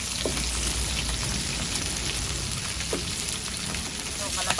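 Pork frying in hot oil, a dense steady sizzle and spatter like rain on a surface, fairly loud and continuous, with a few brief sharper pops along the way.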